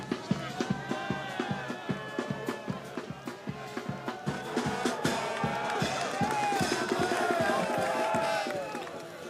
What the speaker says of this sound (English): the crowd, as they go through the hospitality area, are cheering this young rider on